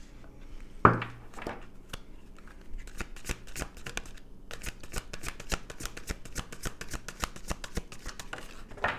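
Tarot card decks are shuffled and handled up close, giving a long run of quick crisp riffling and flicking card clicks. One heavier thump comes near the start, and the shuffling goes on steadily with no talk.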